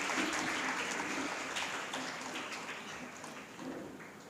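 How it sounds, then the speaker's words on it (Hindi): An audience at a quiz contest prize distribution program applauds the guests in a steady, diffuse wash of clapping that sounds faint and distant and fades slightly over a few seconds. "एक बार ज़ोरदार तालियां हो जाए अपने मेहमानों के लिए।"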